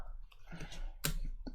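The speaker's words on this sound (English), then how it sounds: "I'm just pressing keys this time." Computer keyboard keys are pressed in a short, uneven run of soft clicks and taps, faint and close, with no talking.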